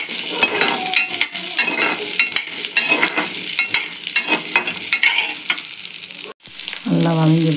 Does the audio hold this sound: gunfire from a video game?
no